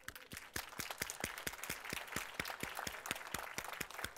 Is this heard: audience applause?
yes